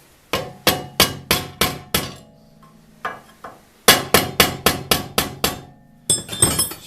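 A tool head being hammered by hand onto a new wooden shaft: sharp, ringing blows in quick bursts of five or six, separated by brief pauses with a couple of softer taps.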